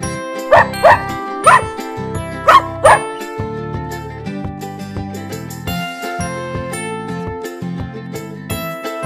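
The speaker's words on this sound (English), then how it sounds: "D for dog." A cartoon dog barks in quick doubled yaps over a bright, tinkly children's alphabet song for preschoolers, the barks loud at first and then giving way to the steady music.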